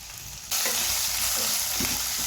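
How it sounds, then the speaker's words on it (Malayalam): Sliced onions, chopped ginger and garlic, and dried red chillies frying in hot oil, with a steady close sizzle that bursts in loudly after a brief quieter start and holds evenly throughout. "ഇത് എണ്ണയിൽ കിടന്ന് നല്ലതുപോലെ ഒന്ന് വാടി വരട്ടെ."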